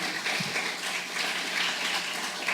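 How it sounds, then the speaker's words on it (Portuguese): Applause rises from an audience at a talk about Easter, a steady, dense patter of clapping that lasts throughout, fairly close and even, with no voices over it. "Palmas para Davi."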